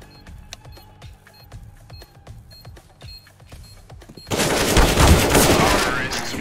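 Gunfire in CS:GO, a string of sharp, spaced shots with metallic clicks, followed by a loud dense roar of rapid fire and noise that dominates the end.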